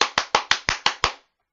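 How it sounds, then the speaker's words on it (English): Seven sharp hand claps in a steady, fairly quick rhythm, close and loud, each with a short decay, followed by silence. "He just clapping."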